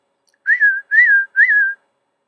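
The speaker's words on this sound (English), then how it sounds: "Anytime you need me, just give me a little whistle. Like this." Someone whistles three short, clear notes in a row, each rising slightly then gliding down, with brief pauses between them and silence afterward.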